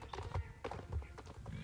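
Horse hooves clip-clop steadily in the Star Stable online video game, a continuous trotting rhythm of soft thuds heard up close under faint ambient game sound.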